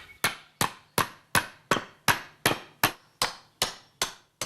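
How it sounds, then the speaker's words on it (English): A hammer skew-nails a nail at an angle into a wooden frame. Eleven evenly spaced, sharp, ringing blows land about every 0.4 seconds, close and loud, with no talk. "the nail can be driven in from the inside at an angle. This is called skew nailing."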